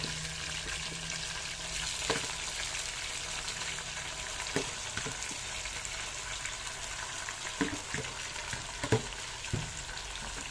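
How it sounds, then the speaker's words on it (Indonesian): Chicken frying with browned onions in a pan, a constant loud sizzle and crackle with occasional sharper pops and stirring scrapes, close by and with no voices. "Goreng punya ayam pula sekarang."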